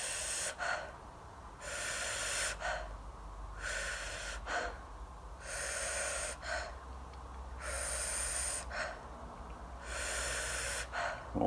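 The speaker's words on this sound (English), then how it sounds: "You're just doing a connected circular breathing pattern." A connected circular breathing exercise: long, hissy inhales and exhales follow one another with no pauses, about four full cycles in steady rhythm, close and alone with no talk.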